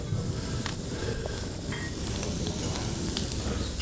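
Sausage sizzles steadily in a hot pan for a stuffed mushroom appetizer, a constant close crackle with a few light stirring scrapes and no talk.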